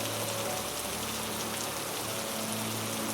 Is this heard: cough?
no